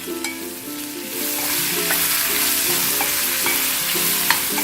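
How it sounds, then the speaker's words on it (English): Onion fries in a pan with a bright, continuous sizzle and scattered stirring scrapes, close and fairly loud. "Then I'm gonna add this onion."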